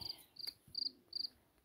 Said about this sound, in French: On est accompagné par un grillon